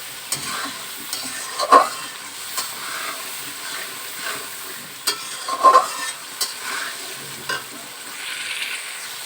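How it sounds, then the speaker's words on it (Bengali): Spice paste with tomato paste being stirred and fried in a pan for a mutton or chicken curry, with a soft steady sizzle, intermittent spoon scrapes and two sharper clanks against the pan, close with no voices. "মশলাটাকে সুন্দরভাবে একটু নাড়িয়ে কষে নেব।"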